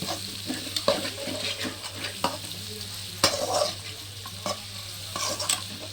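Tomatoes sizzle steadily in a hot pan, with scraping stirs and occasional clinks of a utensil against the pan over a constant hiss.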